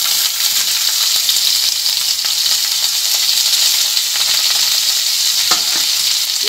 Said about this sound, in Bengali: পেঁয়াজটা একটু এক মিনিট মতন করব তারপর এক মিনিট মতন ভেজে নিয়ে